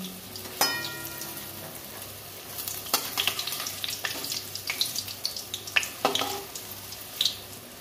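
Puffed-up fritters deep-frying in hot oil: a continuous soft sizzle broken by scattered sharp crackles and pops, close by and fairly quiet.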